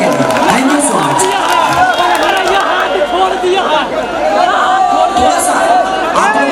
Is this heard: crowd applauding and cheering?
yes